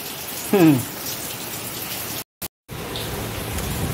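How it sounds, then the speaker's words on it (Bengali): Heavy rain pours outside in a steady, dense hiss that fills the scene, briefly cut off by a short dropout before resuming just as strongly. "এত বৃষ্টি হচ্ছে বলার মতন না। দেখেছো বৃষ্টি, দেখো বৃষ্টি"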